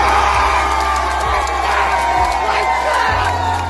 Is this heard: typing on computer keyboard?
no